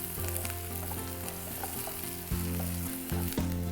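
Onions, ginger garlic paste and green chillies fry in a pan with a loud, steady sizzle, broken by a couple of stirring bumps near the end, with no talk.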